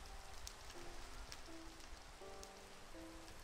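Steady soft rain in Minecraft patters across a surface, a constant hiss with faint droplet ticks, while a quiet sustained tone drifts in the background.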